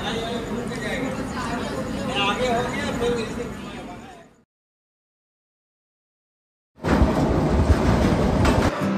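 Jnaneswari Express (12101) train running on the Mumbai to Kolkata route, a broad steady rumble with rattling wagon noise, cutting to silence for about two seconds before the loud rolling returns, with chatter in the background.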